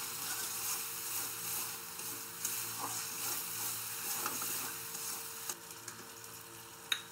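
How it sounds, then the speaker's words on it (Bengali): Spices fry lightly in a pan, a steady close sizzle with faint stirring scrapes and an occasional tap of a utensil, with no talking. "এটা হালকা একটু কষিয়ে নেব।"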